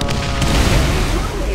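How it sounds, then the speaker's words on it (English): A grenade explodes in the shooter game Borderlands, producing a loud, sustained rumbling boom that fills the short moment at close range. "Grenade."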